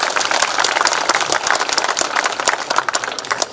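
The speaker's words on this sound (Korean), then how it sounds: "박수" Applause from an audience at the opening ceremony of a park, the Hakbong History and Culture Park, steady dense clapping filling the whole stretch at moderate loudness with no voice over it.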